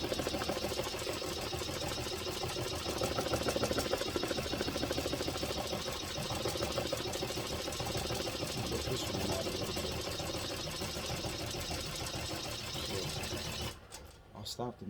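A BAI embroidery machine stitches a hat logo at high speed, a rapid, even mechanical chatter that runs steadily and close, then stops near the end.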